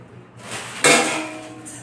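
A separate lid for a steel kadhai is handled, making a single sharp metallic clank midway, with soft rustling and handling noise before it and a short ringing fade after.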